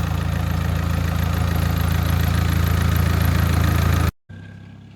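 A Volkswagen Passat engine with a newly built turbo runs at a steady idle, loud and close, then cuts out briefly before resuming near the end.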